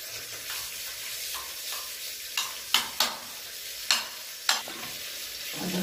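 Onion frying in a pan while shakhshukha is cooked: a steady close sizzle runs throughout, broken by a few sharp scraping stir strokes, with no talking.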